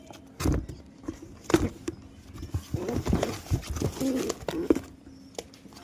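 Domestic pigeons being readied for parcel shipment give soft, low cooing calls in short bursts, close by and moderately loud, with a few sharp knocks and handling noises between them.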